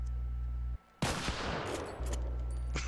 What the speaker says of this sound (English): Just fire one shot.